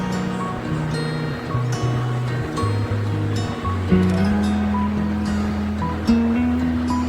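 Onions, green chilies and curry leaves sauté in a pan, giving a steady sizzle and crackle throughout, with background music playing over it.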